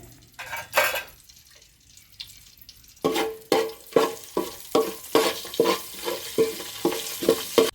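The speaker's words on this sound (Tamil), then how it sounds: "எண்ணெய் நல்லா காஞ்சதும் பட்டை, கிராம்பு, ஏலக்காய் இதெல்லாம் வச்சுருந்தாலும் அந்த தாளிப்பு பொருள் எல்லாத்தையுமே சேர்த்து போட்டுருங்க." Whole cinnamon, cloves and cardamom fry in hot oil in a pan for fish biryani, with a soft sizzle under steady, rhythmic scraping strokes of a spoon against the pan.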